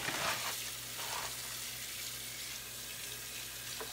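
Water pours and splashes onto coconut fiber growing medium for hydroponics, a continuous close, moderately loud gushing with no talk.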